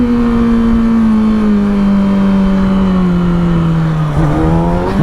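A Kawasaki ZX6R sport motorcycle rolling downhill, its engine a loud, continuous close-up drone whose pitch sags slowly over several seconds, with a brief dip and wobble near the end.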